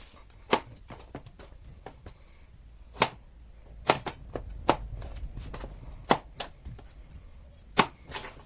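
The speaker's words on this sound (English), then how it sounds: "Okay, potatoes all cut." A kitchen knife cuts through thick potatoes in sharp, irregular chops against a cutting board, about a dozen distinct near strikes spread across the stretch with quiet gaps between them.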